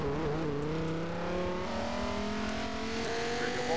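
A race car in Forza Motorsport pulls away from the pit lane, its engine droning steadily and rising in pitch through the gears, close and continuous, with faint tire noise underneath.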